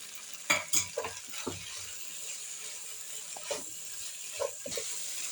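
Macaroni masala with chopped coriander leaves is stirred in a hot pan, producing a few scraping, clattering strokes over a continuous gentle sizzle, close by and fairly quiet.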